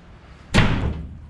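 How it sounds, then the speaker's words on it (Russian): A draft slams a door shut inside an old building on a street in Alicante's Barrio Santa Cruz, Spain. One sharp, loud bang sounds nearby and trails off into a short rumble. "Сквозняком там дверь хлопнула, я аж вздрогнул."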